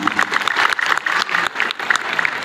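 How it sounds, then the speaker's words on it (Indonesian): Applause from an audience at a fifth-anniversary gathering of a herbal skincare group, a steady, dense patter of many hands clapping fairly close, with a little crowd noise mixed in. "tepuk tangan untuk semua"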